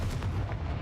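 A Confringo fire spell blast cast in the video game Hogwarts Legacy, a short, dense, booming burst that fills the whole moment with heavy low rumble and crackling noise, with no speech over it.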